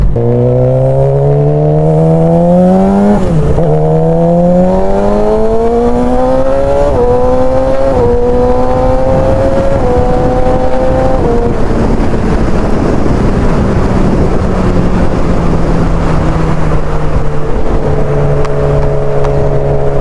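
Suzuki GSX-R 600 sport motorcycle engine at low revs while riding, a loud, close, buzzy whine rising and dropping through several gear changes, then settling into a steady lower drone; no talking.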